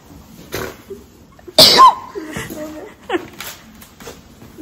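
A woman sneezes once, sharp and close, with faint rustling and a few quiet sounds around it.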